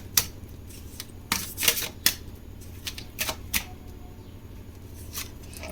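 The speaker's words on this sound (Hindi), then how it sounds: "दो कार्ड निकालेंगे हम" Tarot cards shuffled and drawn during a Hindi reading, giving a series of sharp, close papery snaps and riffles in irregular bursts over a quiet background, with no talking.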